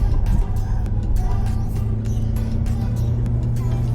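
Mazda CX-30 Grand Touring cornering through a fairly sharp bend at about 70 km/h, heard from inside as a steady low engine and road drone with tire noise, a voice speaking over it throughout.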